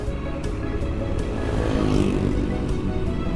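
A 2014 Beat automatic motor scooter engine runs smoothly and steadily up close, a loud continuous drone that swells slightly midway, with no talking over it.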